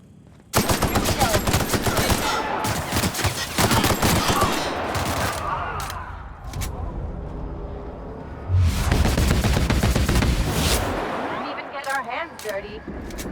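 Rapid automatic gunfire in The Outer Worlds during a final boss fight, dense loud bursts of shots in two long volleys with a quieter gap between, a voice talking faintly underneath.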